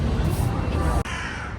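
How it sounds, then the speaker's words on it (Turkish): Crows cawing outdoors on a university campus, harsh calls blending into a loud, busy ambient background, with an abrupt change partway through. "Kargalar uyanmış."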